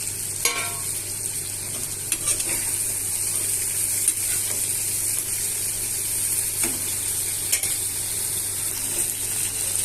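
Brinjal and mango pieces sizzle steadily in a pan for a vankaya mamidi curry, a continuous close hiss with occasional faint clinks and scrapes of a spoon against the metal.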